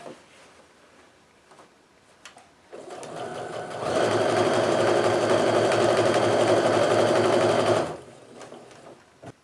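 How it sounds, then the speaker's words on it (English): A sewing machine stitches quilt pieces for a refraction quilt, running in a steady, fast, loud whir for several seconds before stopping, preceded by a softer start-up. "So you just sew along like normal."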